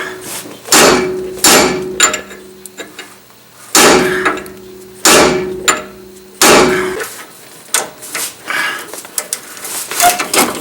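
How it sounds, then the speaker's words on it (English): A brass punch is tapped against the steering center link of a 1994–2001 Dodge Ram RWD pickup, giving sharp, close metallic strikes with ringing tails that come in uneven clusters. "Tap on the center link with a brass punch."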